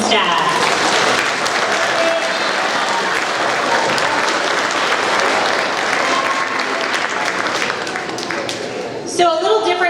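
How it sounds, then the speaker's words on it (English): An audience at a school's 7th grade awards ceremony claps in sustained loud applause that fades slightly near the end before a person begins talking. "I want to give one more round of applause to all of you and our teachers and staff."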